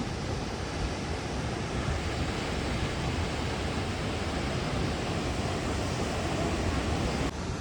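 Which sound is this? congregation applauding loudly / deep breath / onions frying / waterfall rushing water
waterfall rushing water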